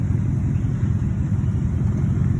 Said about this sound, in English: Oh, that truck sounds bad.